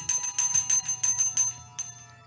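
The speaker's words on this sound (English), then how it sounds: "the bell on Eclipse's side begins ringing and ringing" A bell rings rapidly over and over, a bright clanging peal with a rhythmic string of strikes that slows and fades toward the end, heard alone.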